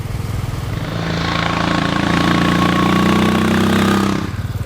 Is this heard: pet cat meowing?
no